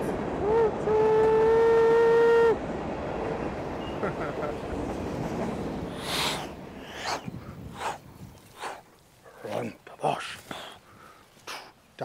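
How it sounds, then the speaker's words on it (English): A noisy train passes outdoors during a nature walk: a loud, sustained horn-like blast holds for about two and a half seconds, then a rolling rumble carries on beneath a voice. "we interrupt this nature show to bring you a very noisy train"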